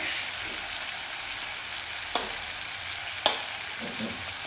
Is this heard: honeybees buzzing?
no